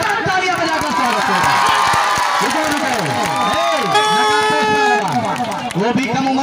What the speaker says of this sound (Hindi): एक बार जोरदार तालियां बजाकर स्वागत